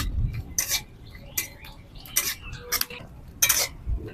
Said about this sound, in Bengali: ঘিটা গরম হয়ে গেছে, এবার এগুলো দিয়ে দিচ্ছি। হালকা করে ভেজে নেবো